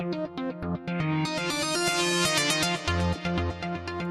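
A rich, bright synthesizer sequence preset from the BLADE-2 synth plays busy, rhythmic stepped notes with a dense upper sheen that opens up partway, continuous and with no voices.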